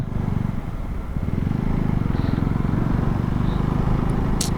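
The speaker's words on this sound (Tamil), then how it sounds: "பாருங்க மாருதி 800 மலை ஏறி இறங்குது வண்டி." A Maruti 800 car climbing and descending a Ladakh mountain road gives a steady, loud low engine drone that runs unbroken throughout.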